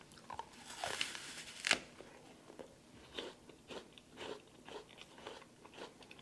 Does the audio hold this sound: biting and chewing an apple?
yes